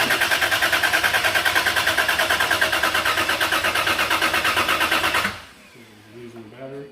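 A Lexus IS300 GTE's starter motor cranks the engine with a fast rhythmic chug, loud and close for several seconds, then cuts off without the engine catching, followed by quieter voices.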